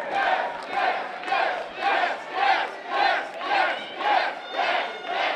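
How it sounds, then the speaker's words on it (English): A wrestling crowd roars in loud, rhythmic waves of cheering and shouting, each swell rising and falling in a steady chant-like pulse with no talk over it. "The crowd's really loving Gil Rogers here tonight"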